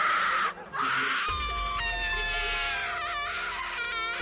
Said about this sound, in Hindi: फिर वह औरत टीना को देखकर जोरों से चिल्लाने लगी।